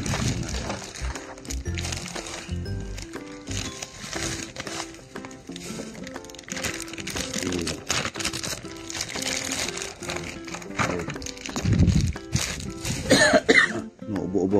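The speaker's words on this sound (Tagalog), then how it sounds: "Ubo-ubo ako." Several coughs break through ongoing crinkling and handling noises at close range, with no other sound on top.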